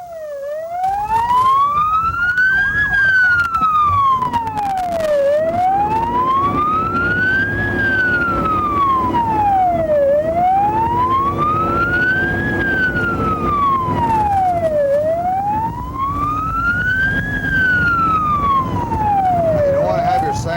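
A Timmins police car runs its siren in a continuous rising and falling wail, loud and near, repeating in slow even cycles over engine and road noise, with no voices.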